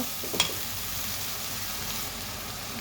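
Onion with ginger-garlic paste frying in a pan, a steady close sizzle with a brief scrape of stirring near the start, no voices.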